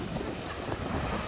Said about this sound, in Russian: Волны так интересно здесь идут. И большие. Вдоль набережной.